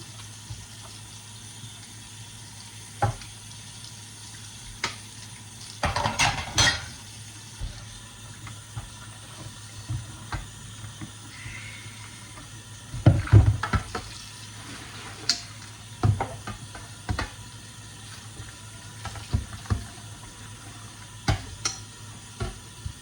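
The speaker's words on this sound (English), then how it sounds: "enough soap to wash the paddle" Tap water runs quietly into a kitchen sink while a mixer paddle is washed with soap, with scattered clinks and clunks and a few louder scrubbing splashes.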